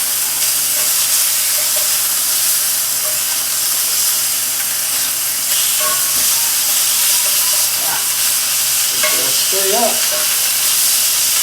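Beef tenderloin steaks sear in a hot cast iron skillet with a steady, loud sizzle and hiss throughout, with a few brief clinks and scrapes near the end as the meat is flipped; a voice speaks briefly.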